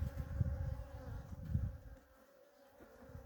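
Honey bees hum and buzz around an opened, queenless hive on a sunny day, a steady close drone with low wingbeat rumble that thins out toward the end.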